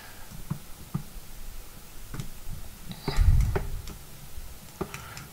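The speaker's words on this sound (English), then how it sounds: "Can you hear it clicking?" A DIY SMD pick-and-place carousel clicks as it is turned by hand like a combination lock, giving scattered, fairly quiet ticks with a louder cluster of clatter midway, heard alone with no talking.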